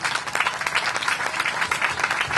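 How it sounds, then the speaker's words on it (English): Crowd applause for a police department at a National Night Out event in Gardena, a dense steady patter of many hands clapping, fairly close and sustained throughout. "let's have a big round of applause for our police department, ladies and gentlemen"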